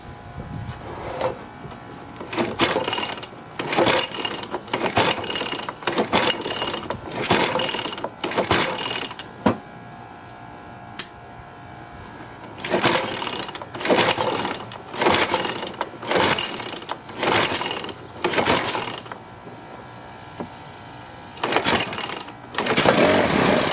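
Repeated pull-starts on a Troy-Bilt 4-stroke string trimmer that won't start: a series of sharp ratcheting cord pulls, about two dozen in bursts with brief pauses, recorded close with no engine catching.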